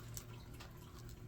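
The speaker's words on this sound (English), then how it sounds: "the sound of running water in the background." An indoor water feature, moved in from a deck, trickles and splashes softly in a quiet room, a faint steady flow with a few small drips.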